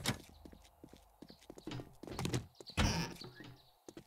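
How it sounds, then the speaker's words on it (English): Many footsteps patter in the zombie survival game 7 Days to Die with the Undead Legacy mod, a busy run of quick, close thuds and scuffs in uneven rhythm with no talk. "Why I am hearing many footsteps?"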